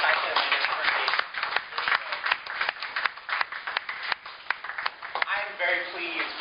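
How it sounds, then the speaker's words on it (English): Applause from a fraternity community-forum audience sounds as dense, close clapping for several seconds, fading as a voice takes over near the end. "Big round of applause, everyone"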